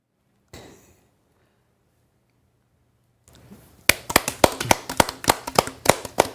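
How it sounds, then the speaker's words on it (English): Someone gives a short round of hand clapping, about a dozen crisp claps in a quick, even rhythm, close and fairly clear after a stretch of near silence. "That is a weak clap."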